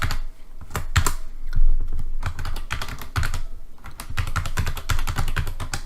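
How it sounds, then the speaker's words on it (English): Someone types an email address on a computer keyboard, with rapid, close clicking keystrokes in uneven bursts and short pauses. "you're going to type in your email address"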